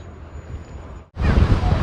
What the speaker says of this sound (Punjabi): ਸਮੁੰਦਰ ਕਰਕੇ ਇੱਥੇ ਹਵਾ ਜ਼ਿਆਦਾ ਤੇਜ਼ ਹੈ